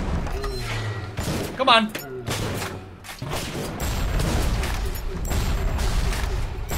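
Gunfire in BioShock Remastered during a fight with a Big Daddy, repeated loud close shots and thuds mixed with game noise, while someone speaks briefly.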